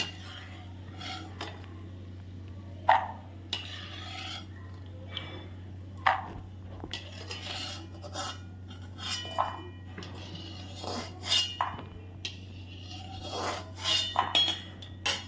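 Fried peanuts are scooped out of a pan into a bowl while making poha chevda. A slotted spoon clinks and scrapes against metal in sparse, uneven knocks over a low steady hum from a nearby appliance.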